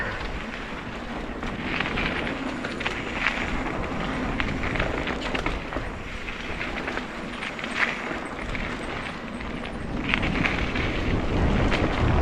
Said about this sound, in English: It's getting windy pups.